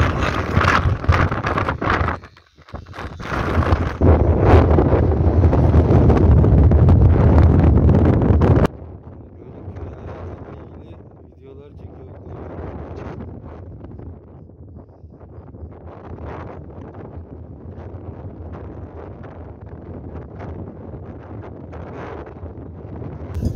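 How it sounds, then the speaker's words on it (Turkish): Strong wind blows across an open village pasture, roaring loudly into the microphone for several seconds before easing into steadier, gusting buffets. "Şu rüzgar da artık şiddetini arttırdıkça arttırıyor."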